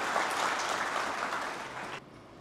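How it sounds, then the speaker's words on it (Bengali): An audience applauds at an anniversary keynote event, a dense, steady clapping that fills the room and drops off sharply near the end. "সবাইকে জোরে হাততালি ওনার জন্য।"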